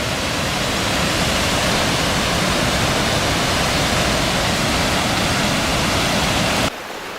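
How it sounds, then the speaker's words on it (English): Minneopa Falls in Minnesota rushes with a heavy, constant roar of falling water, loud and unbroken, heard from a little distance before the sound abruptly drops away at the very end. "Another angle from a little further away on the falls."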